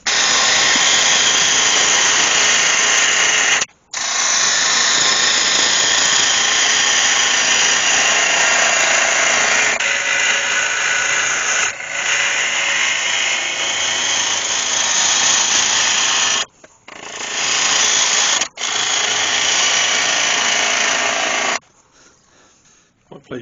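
Wood lathe turning an ash bowl, a steady loud whirring hum with a gritty cutting hiss that runs nearly continuously, broken by a few brief pauses and fading near the end; a voice can be heard faintly under the noise.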